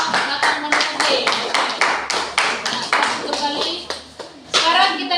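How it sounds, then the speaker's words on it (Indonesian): A classroom group claps for the monocot stem presenters, a burst of fairly loud, rhythmic applause with children's voices mixed in. "berikan tepuk tangan yang luar biasa untuk kelompok batang monokotil"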